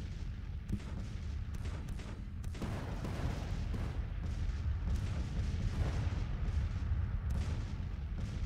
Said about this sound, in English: Our guns are opening up. They're just 6-pounders, but that's okay.